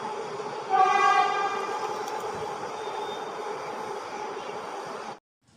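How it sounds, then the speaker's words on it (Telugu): A metro train runs past with a loud horn blast near the start, its rumbling carriages continuing steadily for several seconds before the sound cuts off abruptly. "మెట్రో ట్రైను హారన్ కొడుతూ వెళ్ళడం ఏంటండి"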